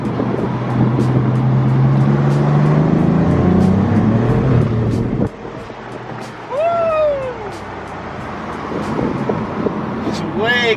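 A BMW F80 M3 running on E85 fuel pulls hard with a droning engine that cuts off abruptly at a shift, followed by a whistling, chirping whoosh and a quieter cruise. A voice speaks briefly partway through.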